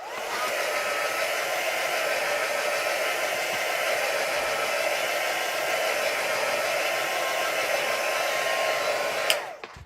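Heat tool blowing steadily on a mixed media art piece, a continuous close whooshing hiss with no voices, cutting off abruptly near the end.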